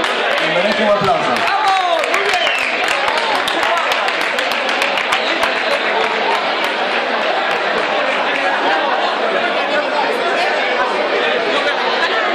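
Applause and chatter from a festival crowd for a rival in a fastest beer-drinking contest at the Lugones beer festival, steady and loud across the whole stretch, with voices mixed into the clapping.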